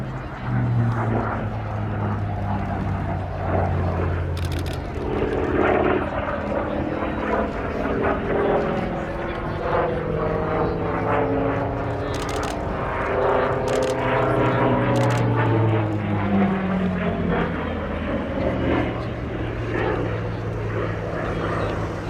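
A piston-engine aircraft flies at the Cosford airshow, its loud propeller drone holding steady and shifting in pitch as it passes, with a commentator's voice over the top.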